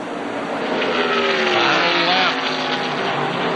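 ARCA stock cars roar around Atlanta Motor Speedway in 1996 on the final lap of the season's last race, a loud, sustained engine drone with a passing swell midway and faint commentary blended underneath.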